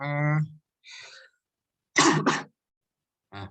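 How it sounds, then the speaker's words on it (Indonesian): A few close coughs and throat-clearing bursts separated by silence, with a brief voiced sound at the start and a short vocal burst at the end. "bentar batuk"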